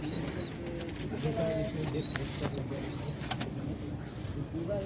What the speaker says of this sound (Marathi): तुम्हाला मी आमच्याकडची कबूतर दाखवतो.